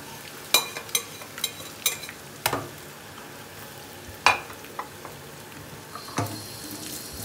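Onions dropped into hot frying oil with potatoes for a Spanish omelette, a soft sizzle punctuated by sharp clicks and scrapes of a stirring utensil against the pan.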